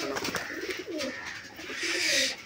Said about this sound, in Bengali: এই যে সাদা চোখের নতুন পায়রাগুলো